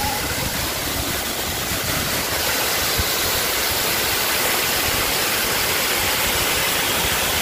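Batlag Falls roars in a steady, dense rush of water, heard from its center, filling the whole stretch without a break.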